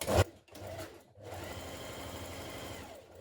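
A home sewing machine stay stitching the back pieces of a fitted dress, a sharp start followed by a brief pause, then a steady close mechanical whir of rapid stitching.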